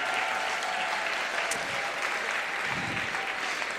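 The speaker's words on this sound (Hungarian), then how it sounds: "Adjunk egy nagy tapsot mindannyiukért Jézusnak." An audience applauds singers at a school gathering, a dense, even wash of clapping from a crowd in a hall that holds steady and fairly soft throughout, without any speech on top.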